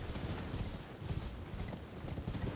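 Horse hooves clip-clopping in a steady, rapid rhythm while riding in the video game Elden Ring, close and continuous over low rumbling ground noise.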